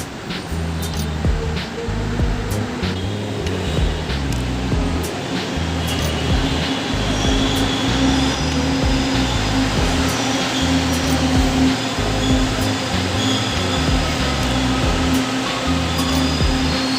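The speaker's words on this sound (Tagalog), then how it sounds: "Hintayin na lang natin dumating yung tren." An LRT Line 2 train rumbles steadily into a station, a continuous low mechanical roar with a faint hum and occasional clicks, fairly close.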